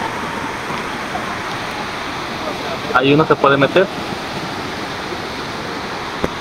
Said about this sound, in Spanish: Ahora sí nos encontramos a los pies de la cascada y verán qué bonito se ve aquí.